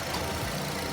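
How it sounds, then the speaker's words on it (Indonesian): A 2009 Nissan X-Trail T31 with a 2.5-litre engine idles in a steady, smooth mechanical hum, close and even, for a brief moment with no voices. "Ini suara mesin"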